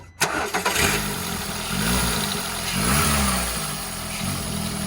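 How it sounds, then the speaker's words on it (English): A car engine fires up with a sharp start, then revs in repeated rising and falling surges at close range, with a steady idle between pulls. "Rev it up a bit higher."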